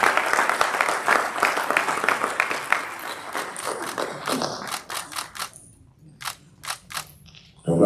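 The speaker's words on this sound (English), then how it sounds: "A round of applause for her." An audience at an entrepreneurship scheme launch applauds a beneficiary, dense loud clapping that thins out over several seconds into a few scattered individual claps before fading.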